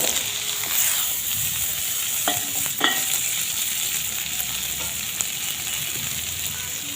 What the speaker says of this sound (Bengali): এবারে ভেজে নেব গাজর আর সিম, একসঙ্গে ভেজে নেব।